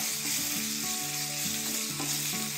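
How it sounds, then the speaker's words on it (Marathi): Turmeric and spices sautéing in a pan for batata vada: a steady, close sizzle and crackle runs without a break for the whole stretch, with faint tonal sounds mixed in beneath it. "आणि हळद आणि हे सगळं थोडंसं परतून घेणार आहे"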